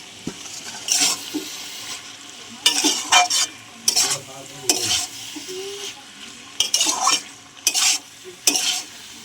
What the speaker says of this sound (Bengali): পনিরটা দিয়ে দিলাম। পনিরটা আমরা ভাজে নিই।